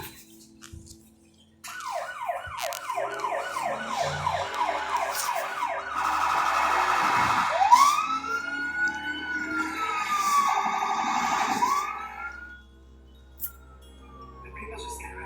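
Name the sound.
sirens turned on while driving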